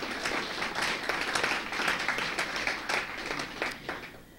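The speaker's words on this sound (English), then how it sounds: "May I have a round of applause for all our sponsors?" A conference audience at a WIPO regional opening ceremony gives steady, dense applause for the sponsors, sustained for several seconds at a moderate distance with no voices over it.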